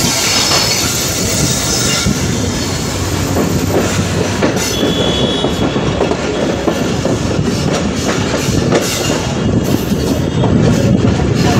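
The Titumir Express train runs from Chilahati to Saidpur, a loud, continuous rumble of rolling carriages with rhythmic clickety-clack of wheels over rail joints and occasional wheel squeal, no voices.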